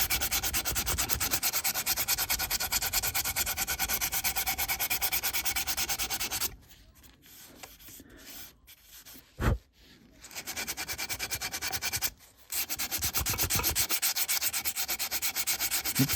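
Hand sanding of stainless steel trim before buffing, with steady rubbing strokes that run continuously, stop for several seconds of near quiet broken by a few bumps and a short pause, then resume close and loud.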